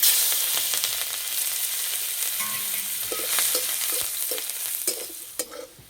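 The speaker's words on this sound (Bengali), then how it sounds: "এই তেলের মধ্যে দেবো থেতো করা রসুন," Crushed garlic frying in oil, a close, steady sizzle with stirring scrapes and clicks of a spatula against the pan, gradually fading toward the end.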